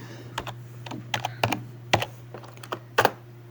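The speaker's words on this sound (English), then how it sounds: "we first need to clear the terminal screen by typing clear" A command is typed into a Linux terminal on a computer keyboard: a dozen or so crisp, close key clicks in an uneven rhythm, some doubled, over a faint steady hum.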